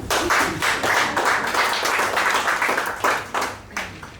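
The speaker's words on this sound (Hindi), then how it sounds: "ताली क्यों कम बजी है?" Audience clapping at a poetry reading, a dense, steady patter of many hands that stays loud for about four seconds, then thins and tapers with a few scattered claps near the end.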